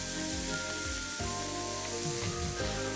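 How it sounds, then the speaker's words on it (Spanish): Onion and garlic frying gently over very low heat give a steady, soft, even sizzle close up, continuous and without speech, while faint music plays underneath. "y la cebolla. Y dejamos que se hagan a fuego muy suave."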